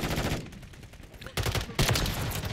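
Rapid sniper rifle gunfire from the KV Inhibitor in a first-person shooter video game, with sharp loud shots at about 1.4 and 1.8 seconds over a continuous background of game noise.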